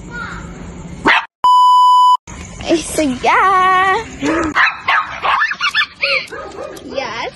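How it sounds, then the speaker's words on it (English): A pet dog on a walk outdoors lets out several short, high yips and barks in quick bursts, interrupted by a loud electronic beep, while someone talks nearby. "Here's my dog."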